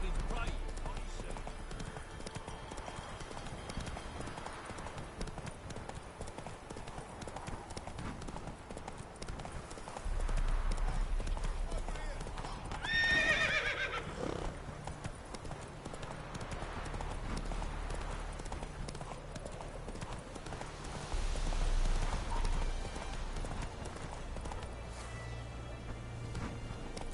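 Horse hooves clip-clop steadily through a long stretch as Roach, the horse in the video game The Witcher 3, is ridden, with a crash and brief swells partway through and someone talking over the hoofbeats.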